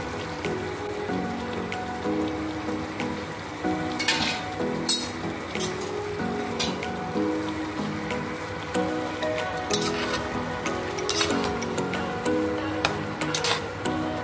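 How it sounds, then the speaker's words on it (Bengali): Banana flower curry with fried potatoes and nuts being stirred in a pan, a soft continuous sizzle with scattered metallic clinks and scrapes of the utensil against the pan at irregular intervals. "আবার একটু নেড়ে চেড়ে নিচ্ছি।"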